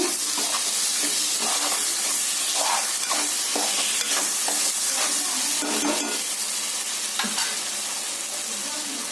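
Chicken curry made without masala spices being stirred in a pan after steaming covered for 5 minutes, with scraping strokes over a steady sizzle and hiss that run continuously and close up for the whole stretch, with no talking.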